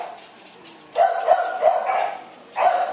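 Several dogs bark in a crowded kennel holding over thirty dogs, loud and close, with repeated overlapping barks and a brief lull between bursts.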